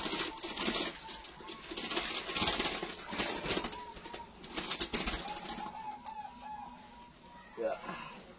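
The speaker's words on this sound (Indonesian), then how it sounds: "saya lihatin perkutut yang bunyi ini. Ini bunyinya sudah kelihatan" Zebra doves (perkutut) cooing, with a soft repeated low call heard faintly amid broadband bird and background noise, under a voice speaking.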